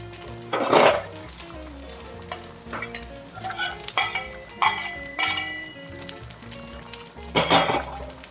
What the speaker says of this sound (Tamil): எல்லாத்தையுமே நல்லா கிளறி விட்டுடலாம்